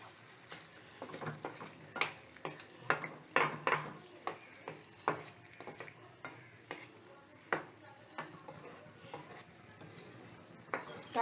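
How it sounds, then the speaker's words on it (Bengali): Spice masala cooking with yogurt in a pan over low heat for a raw banana kofta curry, a soft sizzle under steady rhythmic spatula scrapes and taps against the pan, fairly quiet, without speech. "এবার পুরো মশলাটা আমি কষবো।"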